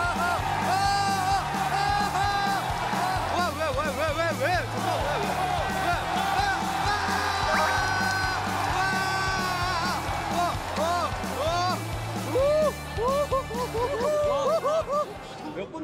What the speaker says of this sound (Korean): 지금 다 전광판이라고 외치고 있는데